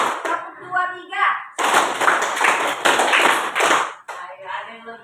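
Students in a classroom clap out a rhythm pattern in quick bursts of sharp, close hand claps, with a teacher's voice calling the pattern between the claps.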